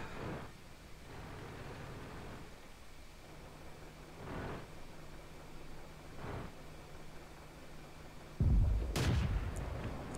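Tank cannon shots in the online game World of Tanks: several deep booming blasts spaced a couple of seconds apart over a steady rumbling engine drone, ending in a louder, sharper impact.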